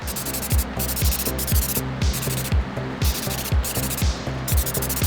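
Aerosol clear gloss coat hissing steadily onto a 3D print in bursts, close and fairly loud, with a repeating thumping rhythm beneath the spray.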